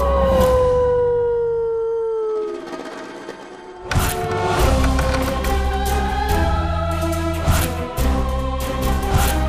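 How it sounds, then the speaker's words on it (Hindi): A dog howls at night outside a house, a long, loud, wavering cry that slides downward and fades, followed by a denser layered wash of sustained tones. "कुत्ते के रोने की ध्वनि सुनाई दे रही थी।"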